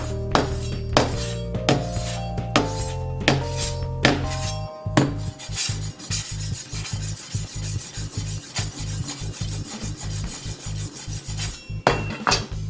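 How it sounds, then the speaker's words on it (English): Hammer and knife blows striking an iPhone 6 during a torture test: sharp metallic knocks and clinks over steady rubbing and scraping, fairly close and loud, with a quick run of hits near the end. "now it's time for hammer and knife test"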